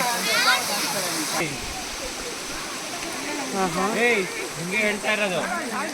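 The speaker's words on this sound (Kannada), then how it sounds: "ಫಾಲ್ಸ್ ಹೇಗೆ ಹರಿತಾ ಇದೆ." A small waterfall running low on water gives a steady, close rushing hiss beneath people chatting and talking over it.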